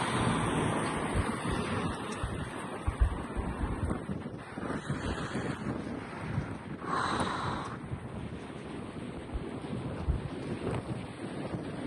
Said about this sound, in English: the wind is so violent, it's blowing everything away